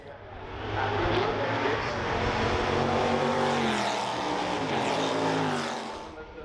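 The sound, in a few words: Ford GT40 race cars racing at Goodwood Revival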